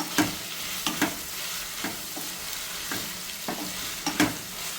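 Stir-roasting for a Thalassery-style prawn biryani in a pan: a steady close sizzle with repeated sharp scraping strokes of a spoon at an irregular rhythm, no voices.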